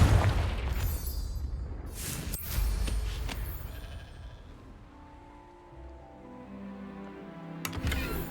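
A Confringo blasting curse in Hogwarts Legacy goes off as heavy explosive booms, a big blast up front and another a couple of seconds later, followed by a fading rumble and a final sharp burst near the end.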